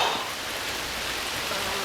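Steady autumn rain falls outdoors, a continuous broadband hiss of drops on surfaces and fallen leaves, even and fairly close throughout with no clear voices.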